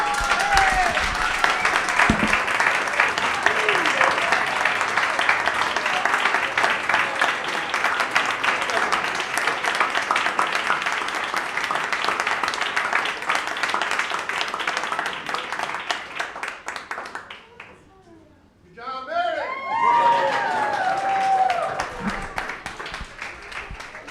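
Sustained applause and cheering for a first-prize winner at a photo challenge awards event, loud dense clapping with excited voices that briefly fades near the end, then swells again.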